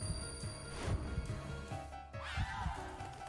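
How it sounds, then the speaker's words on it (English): A crane cries in the Spirit Hunter: NG video game, a high-pitched, wavering call rising near the end over low, murky background ambience. "Was that a crane cry?"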